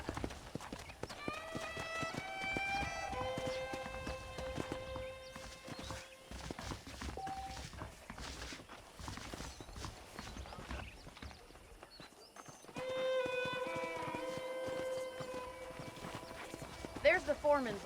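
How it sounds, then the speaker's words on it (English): Rhythmic hoof clip-clops from saddled horses in the video game Red Dead Redemption, steady and moderately loud, with people talking over them throughout. "The horses are saddled up over here."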